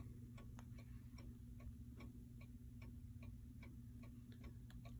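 An antique Rimbault clock from London ticks softly and steadily in a quiet room, its faint regular beats sitting over a low background hum.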